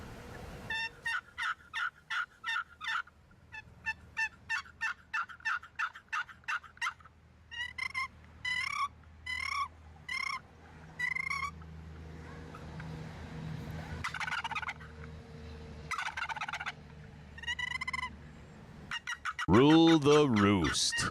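Wild turkeys gobbling in rapid repeated bursts near a lake in North Carolina, loud and clear at first, then scattered calls and a louder, warbling burst near the end, with faint voices between them.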